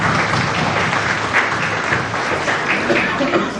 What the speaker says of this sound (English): I really think she really deserves a round of applause